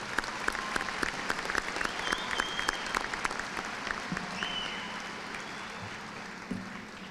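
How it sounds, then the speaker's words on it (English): Crowd at a high school graduation commencement applauds, a dense wash of clapping with sharp individual claps standing out, fading slightly toward the end as a few voices murmur. "Let's give them one more round of applause for that."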